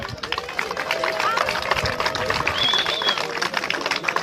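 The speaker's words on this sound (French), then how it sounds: "On peut l'applaudir." A crowd claps steadily throughout at a French football club's 80th-anniversary ceremony, a dense, continuous patter with voices and murmuring mixed in.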